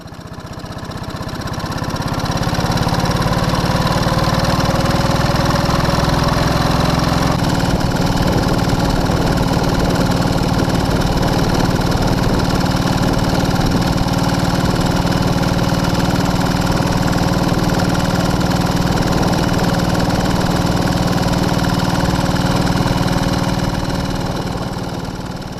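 A replica Panther motorcycle sidecar outfit running on only one cylinder, its engine throbbing steadily and loudly close by with a rough, uneven mechanical beat that holds for the whole stretch, no voices.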